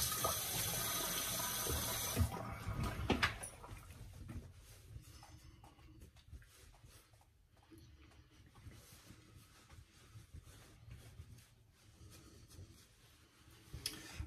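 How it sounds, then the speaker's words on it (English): A bathroom tap runs for a shaving rinse, a loud steady rush of water for the first couple of seconds, then a faint trickle and wet splashing as a neck is wetted before an alum block is rubbed on. "Rinse it a little, get it wet."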